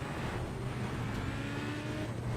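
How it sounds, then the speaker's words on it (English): Opel Astra engine in the racing game Need for Speed: Pro Street, a steady, deep, truck-like drone that holds at an even, moderate level throughout, with no speech over it. "This car sounds like a truck, by the way."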